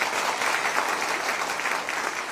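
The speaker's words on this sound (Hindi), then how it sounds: "वैसा ताली होना चाहिए।" Loud, sustained audience applause filling an indoor hall at a community gathering, dense even clapping with no break.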